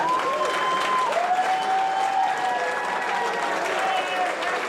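Arena crowd at a pro wrestling tag team match applauding in a steady, moderately loud wash, with a commentator talking over the clapping throughout.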